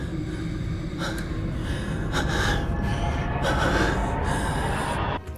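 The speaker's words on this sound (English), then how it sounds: "Why is he panting so much?" Anime character Satoru Gojo from Jujutsu Kaisen pants heavily in a run of harsh, breathy gasps and exhalations, loud and close, over a steady background bed.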